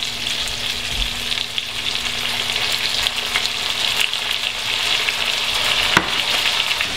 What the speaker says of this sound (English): I stripped the rosemary off the stems and gave it a rough chop. We're going to add that. We're going to add the capers.